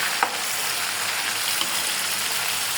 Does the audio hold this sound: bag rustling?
no